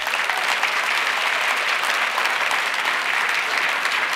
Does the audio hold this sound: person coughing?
no